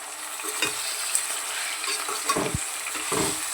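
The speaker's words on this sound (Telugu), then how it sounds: "బాగా ఆయిల్లోనే ఫ్రై అయితే ఇవ్వాలి అప్పుడే తొందరగా అయితే ఉడుకుతుంది" Minced mutton keema fries in hot oil in a pan, a soft steady sizzle under intermittent scraping strokes of a spoon stirring it, quiet and close.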